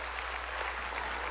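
A church congregation applauds in a brief, dense, even patter of many hands, steady and fairly faint throughout.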